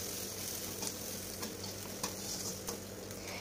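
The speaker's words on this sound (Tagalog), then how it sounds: "And pagkatapos, lalagay na natin ang onion. Yan, isatay lang natin hanggang maging brown yung color niya." Onion sautéing in a pan until browned, a close continuous sizzle with occasional sharp clicks of stirring over a low steady hum.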